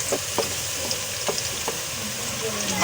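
Onions for matar pulao frying to light brown in a pan, a steady close sizzle with a few sharp crackles and stirring scrapes scattered through.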